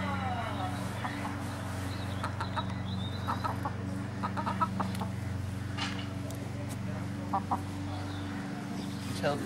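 A pet chicken named Lou clucks in short, scattered bursts indoors over a steady low hum, with voices talking faintly at times.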